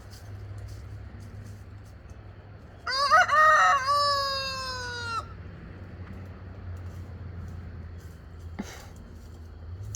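A homestead rooster with featherless legs crows once, clear and moderately near, over a quiet low hum, with a faint short sound near the end.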